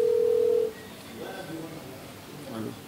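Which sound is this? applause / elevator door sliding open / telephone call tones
telephone call tones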